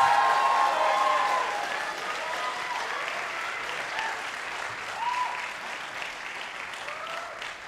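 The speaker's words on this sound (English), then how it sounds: "Let's give them another round of applause." Audience applause for a school band and theater celebration, broad sustained clapping that starts loudest and eases slightly, with faint voices and cheers mixed in.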